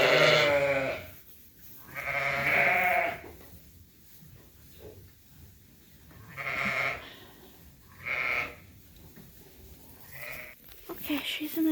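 Ewes in a sheep pen give several loud, close bleats, each a second or two long and spaced a few seconds apart, with quieter rustling between them.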